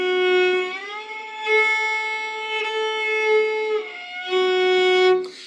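Solo violin holding a sustained note, then sliding smoothly up to a higher pitch, with a second glide later; bright, close, and clear.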